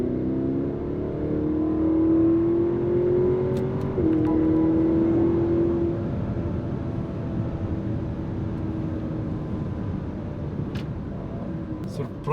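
BMW X7 50i M Sport with a 4.4L V8, on Pirelli P Zero tires, accelerating hard; a loud, steady engine drone rises in pitch for several seconds, then settles into a lower continuous roar.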